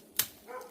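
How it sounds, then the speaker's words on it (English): A dog on a rural East Texas property lets out one sharp bark, followed by a softer whining yip, heard at moderate distance outdoors. "I'm more worried about the dogs"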